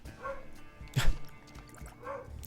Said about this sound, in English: I apologize if you can hear that dog.